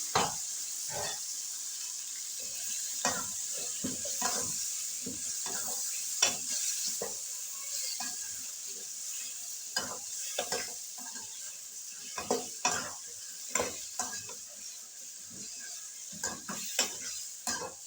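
Half a kilo of turnip cubes and meat frying in a pot for shalgam gosht, with a soft constant sizzle broken by repeated scraping strokes of a spoon against the pot, close and alone.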